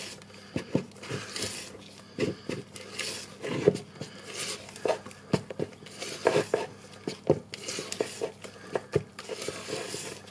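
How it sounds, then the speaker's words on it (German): Flour being folded into chocolate cake batter in a bowl, giving soft rhythmic scrapes and light taps of a utensil against the bowl, close and fairly quiet. "jetzt gebe ich hier das Mehl unter"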